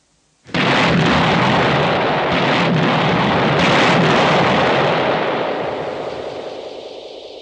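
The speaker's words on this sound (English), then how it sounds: "Nearby stands the Avery, with its 165mm demolition gun, ready, if needed, to dismantle final remnants of the bridge." The Avery's 165mm demolition gun fires at a bridge, one huge close blast that breaks in suddenly and then rumbles on for several seconds as a long, slowly fading roar.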